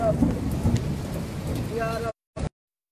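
A deep rumble of thunder rolls through steady rain, with faint voices in the background before the sound cuts off abruptly.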